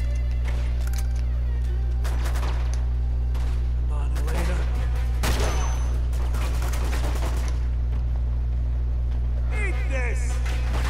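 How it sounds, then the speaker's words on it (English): Pistol gunfire in the Uncharted video game, with sharp shots scattered across the span over a steady low game hum and soundtrack, amid background action noise. "It's a pistol."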